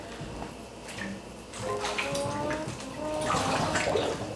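Water runs into a tub for soaking polyester Crocs, a steady splashing and gurgling pour with shifting tones, close and moderately loud, growing fuller toward the end.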